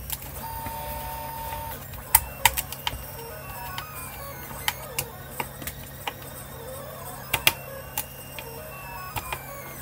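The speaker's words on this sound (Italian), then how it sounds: "Cominciamo rimuovendo le 4 viti poste sul fondo dell'alimentatore" A screwdriver backs out four screws from the bottom of a Parkside 20V power supply, with sharp scattered clicks and small mechanical ticks close up, over a steady faint hum.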